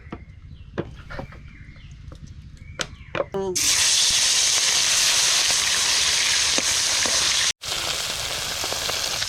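Salt-and-turmeric-coated fish goes into hot oil in a kadai outdoors in a village, and a loud, steady sizzle begins abruptly. Before it come rooster and bird calls with a few clinks, and the frying noise then runs on unbroken.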